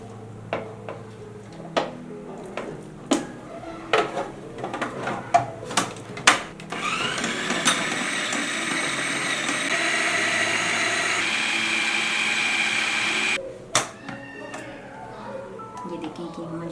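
Roughly chopped chicken being minced in a chopper or blender for seekh kebabs: a run of sharp knocks and clatters, then a loud continuous motor whir for several seconds that cuts off abruptly, followed by more light clatter.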